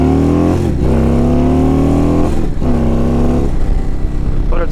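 A big Indian motorcycle engine revs hard and close, rising in pitch three times with short dips in between, and drops back to a throatier idle at the end.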